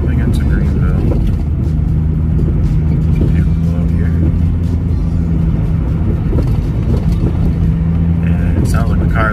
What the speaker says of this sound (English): Sounds like the car is gonna fucking fall apart.